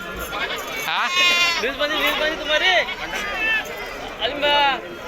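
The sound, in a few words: goats bleating at a village goat market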